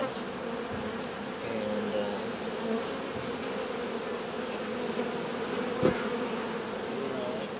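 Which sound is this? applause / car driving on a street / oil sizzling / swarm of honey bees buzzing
swarm of honey bees buzzing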